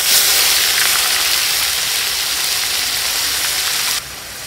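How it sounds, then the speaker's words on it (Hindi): Garlic and onion paste hits hot oil in a frying pan for Patiala aloo, producing a loud, dense, continuous sizzling hiss that drops in level abruptly near the end. "ये लहसुन प्याज का पेस्ट डाल रही हूँ।"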